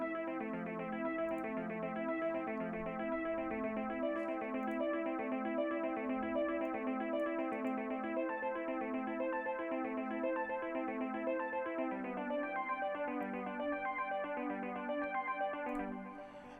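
Afro house synth arpeggio built in FL Studio cycles steadily through the chords in rapid repeating notes, bright and even with a touch of echo, playing alone for the whole stretch at moderate level.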